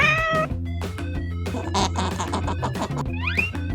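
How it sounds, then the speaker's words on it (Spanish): A cat meows several times in a row, with short bright cries over a busy background of tones, then a final rising meow. "Gato."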